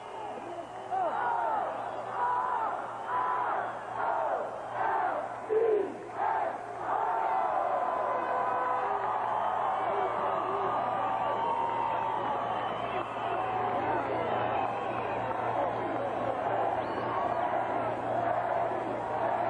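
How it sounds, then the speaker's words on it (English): A crowd celebrating the Orioles World Series win chants an Orioles cheer in a few rhythmic shouted bursts, then settles into a sustained roaring din that fills the rest of the stretch. "One more time I'll do an Oriole cheer."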